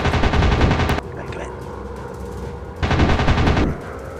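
Loud bursts of machine gun fire from a WW2 warplane air combat video game, one long burst, a pause with engine drone, then a second burst.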